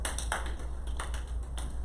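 A classroom of students gives a brief round of applause, a few scattered claps spaced across a couple of seconds over a steady low hum, with no talking.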